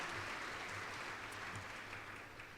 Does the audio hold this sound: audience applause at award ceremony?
yes